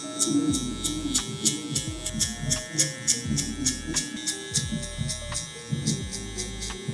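Electric hair clippers buzz in repeated short passes while cutting a low taper fade, the motor rising and dropping in rhythmic strokes close to the ear, with faint clicking between passes and no talk.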